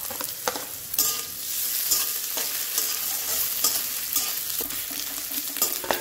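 Onion stir-fried with ginger and garlic gives a steady close sizzle, punctuated by regular scraping and clinking strokes of a spatula against the pan.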